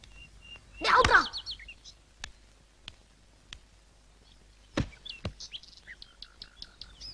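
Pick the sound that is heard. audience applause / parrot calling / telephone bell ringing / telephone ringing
parrot calling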